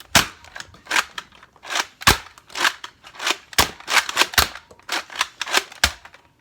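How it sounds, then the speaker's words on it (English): Nerf shotgun blaster firing Elite foam darts in a demo, a series of sharp, loud snapping shots with priming clacks between them, irregularly spaced across the stretch with no talking. "First I will be shooting 4 shots primed with Elite darts."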